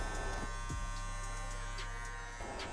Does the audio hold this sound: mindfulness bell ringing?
no